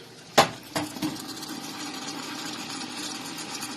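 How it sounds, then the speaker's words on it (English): White wine splashed into a hot pan to deglaze it, opening with a few sharp clanks of pan and utensil, then a steady faint sizzle as the alcohol cooks off. "all that right there is the actual alcohol cooking off"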